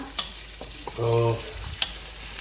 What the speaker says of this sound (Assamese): এতিয়া পিঁয়াজখিনি ভাজি লৈছোঁ